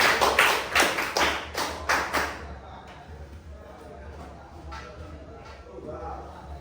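A class claps in unison for a few seconds in quick, crisp bursts that then stop, leaving soft room noise and faint voices in the background.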